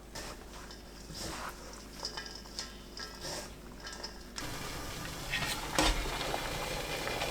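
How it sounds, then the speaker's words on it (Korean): Sea-blite greens tossed and mixed by hand with raw soybean flour in a bowl, soft continuous rustling and stirring with occasional light scrapes, quiet and close, no talking. "섞어가면서 조금씩 뿌리는 게 좋습니다."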